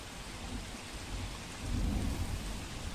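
Steady rain pours in Nakhatrana, Kutch, while a low rumble of thunder swells midway through the downpour.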